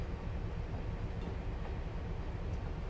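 A train in Train Simulator rumbles past steadily, a dense broad roar with faint rhythmic clatter, continuous and fairly close, with no voices.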